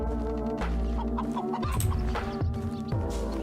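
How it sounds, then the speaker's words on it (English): Chickens cluck on a farm in the Medieval Dynasty video game, their steady calls running under a loud, continuous bed of game music. "My chicken farm."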